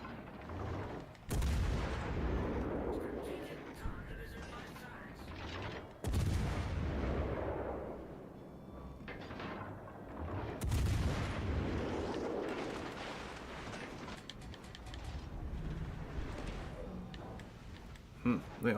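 Ship guns in World of Warships: Legends boom out in three heavy salvos spaced several seconds apart, each with a rolling tail, while a player talks through most of the stretch.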